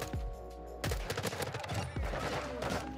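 Rapid bursts of M4 rifle fire from Modern Warfare 2 gameplay, loud and close, with several sharp volleys and short pauses between them.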